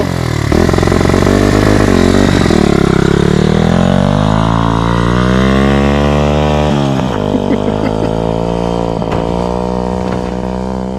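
Motorcycle engine revving hard on an ice racing track on brand-new tires, a loud continuous high-pitched whine that climbs and swells with throttle, close to the mic and with no talk.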